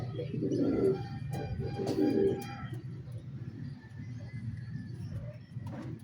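Low, throaty cooing of large Johnson-strain pigeons nearby during training in San Miguel, Bulacan, two rounds of coos over a steady background hum.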